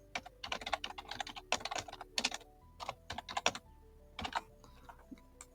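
Typing on a computer keyboard: quick clusters of soft, close key clicks in uneven bursts with short pauses, no voices.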